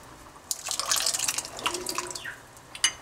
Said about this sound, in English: we're going to go ahead and add in our garbanzo beans along with the liquid